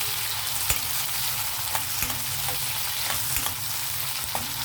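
Dried shrimp and sliced onions frying in hot oil in a pan for an Andhra-style gongura curry, a steady dense sizzle with occasional sharp pops and stirring scrapes, close and continuous with no talking.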